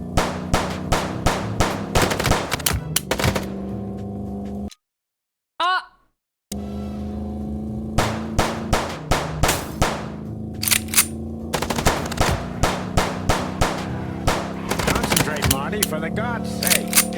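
Rapid machine-gun bursts from the video game Chicken Police, loud, close and repeated, stopping briefly for a short silence before the firing resumes.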